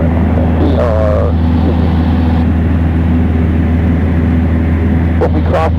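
Small propeller airplane engine holding about 2400 RPM in flight, a steady loud low drone throughout, with brief voice sounds over it.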